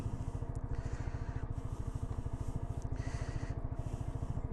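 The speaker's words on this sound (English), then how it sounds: "We'll rev it." A stock-exhaust Yamaha R125 Tech Black motorcycle engine runs close by with a steady, fast, throbbing low pulse that holds an even level throughout, with no voices.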